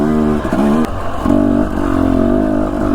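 A dirt motorcycle pushes along a rarely traveled single track trail in Idaho, its engine loud and near, revving up and down in surges with clattering between.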